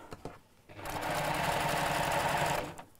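A sewing machine stitches a curved tote bag at a 2 mm stitch length, a steady close mechanical whirr lasting about two seconds between quieter pauses.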